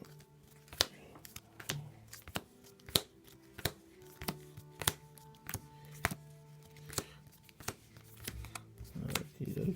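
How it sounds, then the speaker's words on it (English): A deck of cards for the Iron Helm dungeon game is shuffled by hand, a run of quiet irregular snaps and riffles close by. "So first thing I've got to do is shuffle the dungeon deck."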